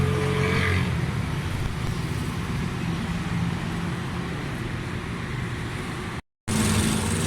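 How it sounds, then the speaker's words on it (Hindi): A Nissan Pino car engine, freshly tuned and with new oil, runs at a steady idle in a constant close hum, briefly cutting out for a moment near the end. "अभी इसको इंशाल्लाह गाड़ी को स्टार्ट करते हैं।"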